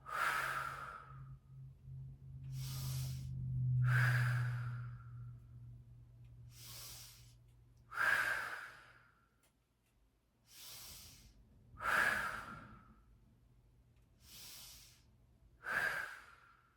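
Slow, deep breathing during a gentle Pilates exercise: about eight long inhale-and-exhale cycles, close and fairly quiet, evenly paced over a faint low hum, with no talking.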